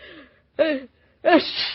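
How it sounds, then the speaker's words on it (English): A woman sneezes in an old-time radio drama, a short sharp burst preceded by a quick intake of breath, close and clear, with a brief earlier voiced sound. "Mama, you sneezed"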